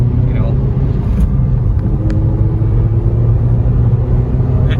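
A project car with a manual gearbox drives along with a steady low engine rumble and road noise, heard close up from inside the cabin with no talk.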